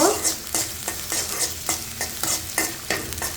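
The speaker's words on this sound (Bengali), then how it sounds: "মরিচ পেঁয়াজগুলো ভেজে নেব" Chillies and onions fry in hot oil in a wok with a loud, continuous sizzle, punctuated by a steady rhythm of spatula scrapes and stirs roughly every third of a second.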